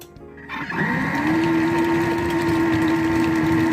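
After a brief quiet moment, a food processor grinding beef for meatball paste spins up and settles into a steady, loud motor whine at high speed.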